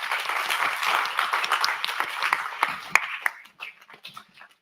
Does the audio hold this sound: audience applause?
yes